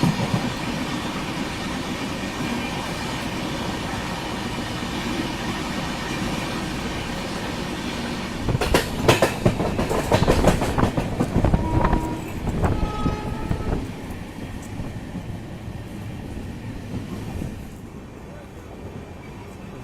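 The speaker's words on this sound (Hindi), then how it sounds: "गाड़ी अपनी कोकराझार रेलवे स्टेशन पहुंच रही है।" North East Express train approaching Kokrajhar railway station in Assam, with steady rumbling rail noise throughout, a louder burst of clattering and rushing around the middle, then easing quieter toward the end.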